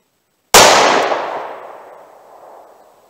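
A single loud gunshot from an Inceptor ARX .38 Special round during a ballistic test, a sharp blast after a moment of silence that decays in a long ringing echo.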